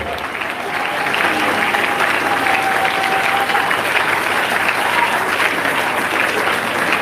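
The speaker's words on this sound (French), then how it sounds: "Acclamez s'il vous plaît." An audience applauds in a hall during a memorial gathering, a loud, dense burst of clapping that swells after a second and holds steady to the end, with a voice faintly over it.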